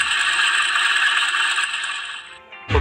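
Motorcycle engine running with a cam chain tensioner fault from poor tension, lack of lubrication and long-term wear, giving a steady close metallic rattle that holds evenly, dips briefly near the end, then picks up again.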